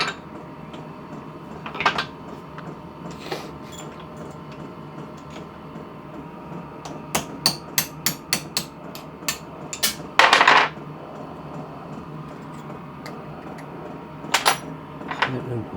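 Hammer strikes on a metal pin in a vintage tractor throttle link: sharp metallic taps arrive singly and then in a quick run of about a dozen, near and fairly loud, with workshop clatter between them.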